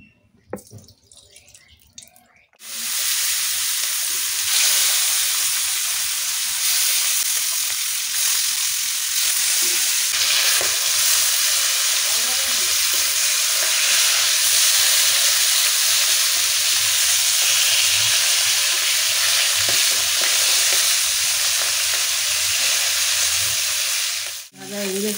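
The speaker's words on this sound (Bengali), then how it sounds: "ভাজা হয়ে গেছে, এখন তুলে নেব।" Pieces of rohu fish fry in hot oil, a dense, steady sizzle with crackling spatter that holds at an even, close, loud level for most of the stretch before cutting off.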